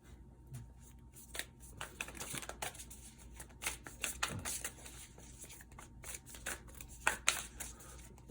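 Tarot cards being shuffled and handled, giving soft repeated riffling and papery flicks at low level, with irregular bursts and quiet gaps, no voices.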